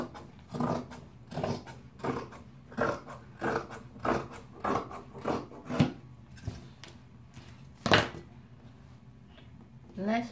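Scissors cutting fabric for a lined bomber jacket, a run of repeated crisp snips and blade chomps at a steady rhythm, close and fairly quiet, with one sharper cut near the end and no talking.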